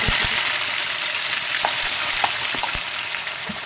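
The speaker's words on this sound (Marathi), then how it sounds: "आपले तेल तापलेलं आहे आता खडी मसाल्याने मी घालते त्याच्यामध्ये जिरे घालायचे" Cumin and whole spices hit hot oil for a gourd kofta curry, giving a steady loud sizzle with a few sharp crackles and pops scattered throughout.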